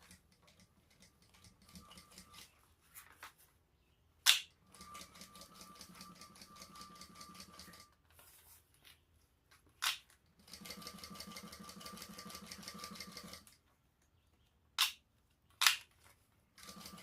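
A sewing machine stitches a petite shoulder bag in two sustained runs of steady, rapid needle chatter, with short pauses, sharp clicks and handling noises between bursts, fairly close and with no one talking over it.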